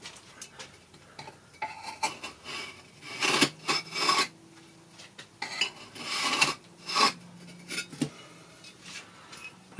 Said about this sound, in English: We just run the chisel up against it and just mark across the bottom of the top brick.